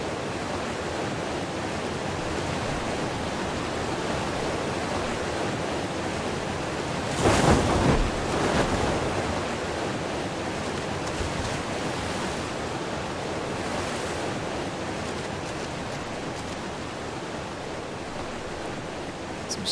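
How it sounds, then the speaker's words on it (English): A waterfall in the video game ARK gives a steady, loud rushing roar like broad surf, with a brief swell of stronger splashing partway through. "Sounds like we've got a waterfall coming up."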